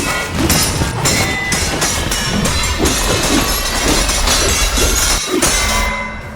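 Sword sound effect built from a fork and two spoons, heard as a dense metallic clashing and scraping with sharp clinks and glassy rings, loud and continuous for about six seconds before tailing off.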